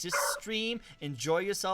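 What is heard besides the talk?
roommate's dog barking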